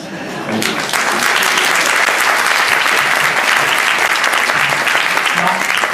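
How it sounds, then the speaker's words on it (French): After a short quiet moment, a hall audience bursts into loud, sustained applause for writer Jean d'Ormesson, a thick, continuous roar of clapping that stays strong to the end. "je vais applaudir Jean d'Ormesson dans la salle"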